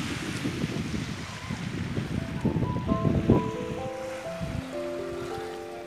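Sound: waves on empty Lamadrague beach, Algiers

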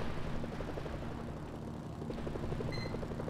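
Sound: helicopter flying in the video game Mercenaries: Playground of Destruction

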